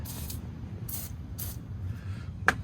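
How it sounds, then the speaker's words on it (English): Penetrating oil sprays onto the fuel tank straps of a second-generation Dodge Ram in three short hissing bursts under a low background hum, followed by a sharp click near the end. "penetrating oil on fuel tank straps"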